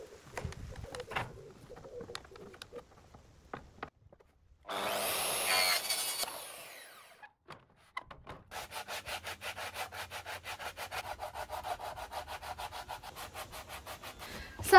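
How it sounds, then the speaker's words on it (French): A plastic part for a van's dry toilet being cut by hand, a few scattered knocks, then a short rough burst of scraping and a long run of fast, even rasping saw strokes, close and fairly quiet. "Je vais essayer de découper cette partie en plastique."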